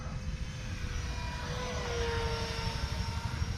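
A fast model airplane flies overhead, its engine a steady whining drone that shifts in pitch as it passes, moderately distant over a wind-like background rumble, with no voices.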